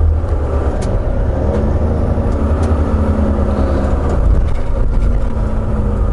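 Semi truck engine braking with the Jake brake on the highway, a loud, continuous low rumbling drone heard from inside the cab with steady road noise, no voices.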